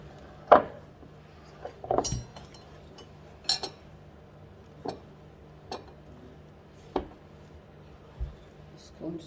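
Scone dough being mixed in a bowl with a knife: sparse clinks and taps of the blade against the bowl at irregular intervals, fairly close and light, with a voice talking in between.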